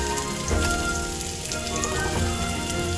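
Pieces of coconut roast in hot oil in a pan, giving a loud, dense, steady sizzle and crackle that runs unbroken throughout with no voices.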